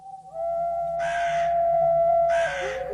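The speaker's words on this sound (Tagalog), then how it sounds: "yung huni ng ibong wakwak paulit-ulit" The wakwak bird gives two harsh, crow-like cawing calls, each about half a second, over a steady thin tone, with no voices.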